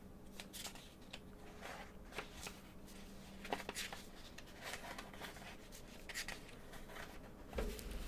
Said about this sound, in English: Let me just shuffle these about